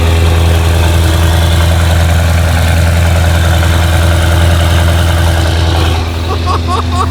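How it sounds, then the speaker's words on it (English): Mercedes E63S engine idling after a cold start, a steady, loud low rumble with a pulsing throb that holds throughout, with a few faint higher chirps near the end. "Listen to this cold start."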